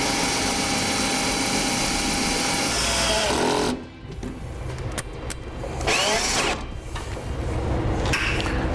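A power driver runs a self-tapping screw into sheet metal on a towed vehicle's body, a loud continuous motor drone that drops briefly then resumes in short bursts, close and steady.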